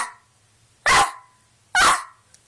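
A person imitates a dog's bark with their voice, giving two short, loud, sharp barks about a second apart with quiet between them.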